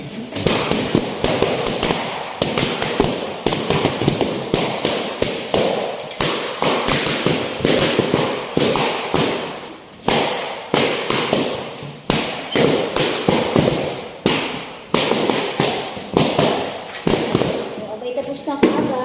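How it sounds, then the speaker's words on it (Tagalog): Rapid volleys of balloons popped all at once like New Year firecrackers, dense sharp bangs in clustered bursts with decaying tails, voices talking and laughing throughout. "At pagsapit ng alas 12, sabay-sabay nyo lang ang paputok ng ganire"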